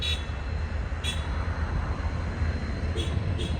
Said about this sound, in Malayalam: ഇവിടേക്ക് ഇതാ അടുത്തൊരു WDP-4Dയും ലഗേജ് വാൻ കൂടി ഇതാ ഇവിടത്തേക്ക് എത്തിയിരിക്കുകയാണ്.